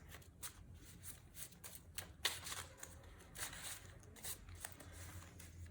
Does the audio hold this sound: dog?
no